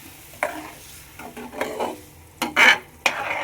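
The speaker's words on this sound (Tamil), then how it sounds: "கச்ச புளி, ஊற்றிட்டு இப்போ கலரணும்" A spoon stirs raw tamarind water into a turkey berry and garlic curry in a pot, giving several separate scraping, splashing strokes with a faint sizzle beneath, close and fairly loud, with no voices.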